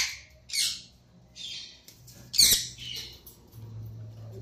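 Pet parrots at play give several sharp, loud squawks in short bursts, with one harsher shriek near the middle, over low room noise.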